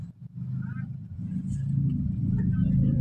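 A manual car pulls away in second gear through slow, congested traffic, its low engine rumble building steadily from near, with faint voices in the background.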